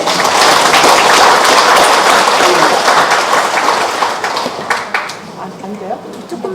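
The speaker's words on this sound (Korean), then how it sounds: "함께 박수로 대답하겠습니다." Lecture hall audience of hospital volunteers claps warmly to welcome a visiting professor, strong dense applause that fades out toward the end as murmuring voices and room noise take over.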